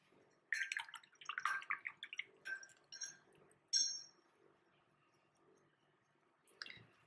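Paint is flicked onto an art piece in a series of quick, light spatters and ticks, clustered at first and then sparser, close by and quite faint in a quiet room.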